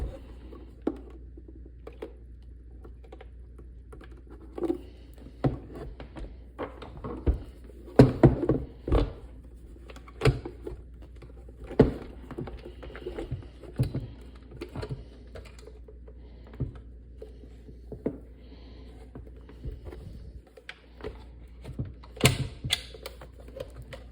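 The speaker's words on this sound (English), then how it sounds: "it looks like you just kind of pull the case apart from the bottom" The plastic case of a Vitamix 5200 blender base is pried apart by hand, giving close, irregular clicks, creaks and snapping taps with short pauses between them, and no talking.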